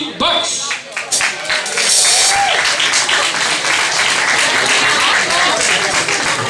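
A crowd at a carnival song contest gives loud, sustained applause, dense clapping filling the room with cheers, while a voice speaks through it.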